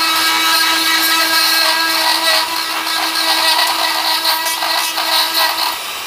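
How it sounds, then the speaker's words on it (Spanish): A drill bit bores into dry wild olive deadwood, cutting against the grain with a steady high whine and gritty rasp that holds constant at close range, no voices over it. "El giro de la broca me va en contra de..."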